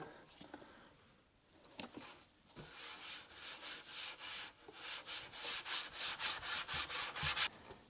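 A Scotch-Brite pad scrubs softened coating off a BMW center console, with a few scattered rubs at first building into steady, rapid back-and-forth scouring strokes, close and dry-sounding, with no talking.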